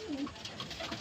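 Two pet racing pigeons coo softly nearby in a loft, low throaty calls repeating through roughly a second, with no talk.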